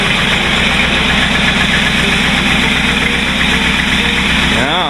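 A rat rod's engine runs after sitting unused a long time, a loud, close, steady rumbling idle that holds evenly throughout.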